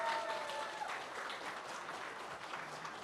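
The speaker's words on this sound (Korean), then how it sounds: "큰 박수 다시 한번 부탁드립니다" Sustained applause from a church congregation at a summer Sunday school thanksgiving service, a dense steady clatter of many hands filling the room, fairly even in loudness throughout with a faint tone trailing under the start.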